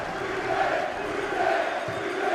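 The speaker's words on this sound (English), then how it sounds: "Rudy Scatchell takes the applause" Football crowd in the stands at New St Mirren Park celebrating a Hearts goal that makes it 2-0, a steady, broad roar of cheering and applause holding at an even level throughout.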